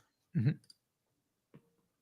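A single short computer mouse click sounds close and faint, after a brief vocal murmur and a moment of near silence.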